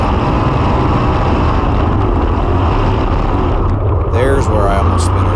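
410 sprint car engine screaming at about 9,000 RPM down the backstretch at Gas City Speedway, a loud, dense onboard roar that is continuous and close, with wind noise over it.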